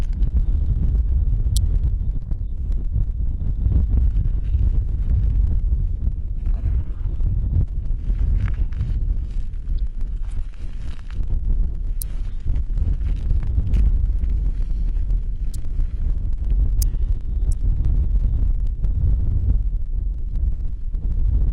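Steady, heavy wind buffeting the microphone outdoors in Yakutia, a constant low roar with no pauses, loud and close throughout.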